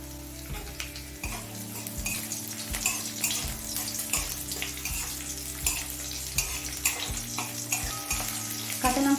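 Green chillies and garlic frying in oil in a kitchen pan, a steady sizzle broken by repeated stirring scrapes and knocks, with a faint hum of running water in the background.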